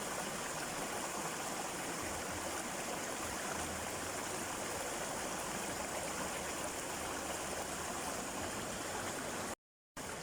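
A mountain stream in a forest babbles and flows steadily at a low, even level, cutting out for a split second near the end.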